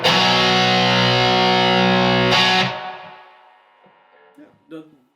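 An electric guitar runs through a Suhr Riot distortion pedal on its vintage high-gain setting, a thick saturated chord ringing loud for over two seconds before cutting off, followed by quiet handling noises.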